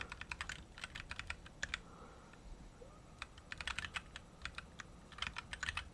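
Rapid bursts of typing on a computer keyboard while coding JavaScript, clicky keystrokes in quick clusters with short pauses between them, close and clear in a quiet room.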